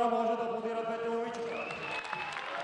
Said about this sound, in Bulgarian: Браво на публиката, заслужени аплодисменти